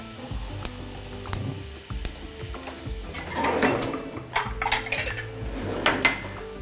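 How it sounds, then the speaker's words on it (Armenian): A small pot set on a stovetop while onigiri rice is prepared, giving a few sharp metallic clanks and knocks close by, with softer rattling and scraping of kitchen utensils in between. "Փոքրիկ կաթսա ենք դնում կրակին։"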